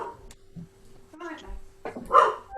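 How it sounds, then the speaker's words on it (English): A dog barks a few times through a Zoom call's audio during an online body products event. The barks are small and fairly faint, mixed with a person speaking. "growling at the dog who's barking on Zoom"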